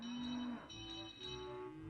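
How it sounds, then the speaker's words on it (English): A cow moos in a drawn-out, steady low call, then a second, softer moo follows, heard faintly and without any talking. ""Shoo cows, shoo, shoo cows," sang Alicia Botti"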